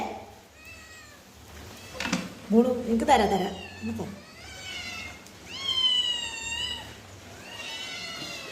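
Cats meow for fish repeatedly in drawn-out, pleading cries, some overlapping, while a person speaks to them between the meows.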